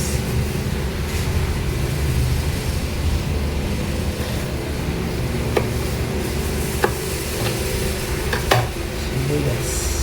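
Onions sizzle steadily in a hot pan while being stirred, a continuous frying hiss with a few sharp scraping clicks, cooked for pork chops.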